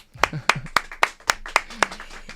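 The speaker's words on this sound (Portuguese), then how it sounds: "Gente, uma salva de palmas." Clapping from an audience at a talk on forming ethical leaders, a run of about nine distinct, fairly close hand claps in a loose, uneven rhythm.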